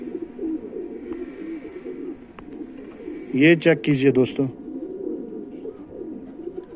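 A pigeon coos in low, rolling, repeated calls close by. Someone speaks briefly over the cooing midway through.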